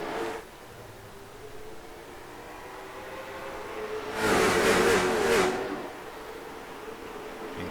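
Late model race cars from the West Late Model Series roar away at the green flag start at Five Flags Speedway, a loud broadband engine surge rising and peaking for about a second before easing back to a steady distant rumble.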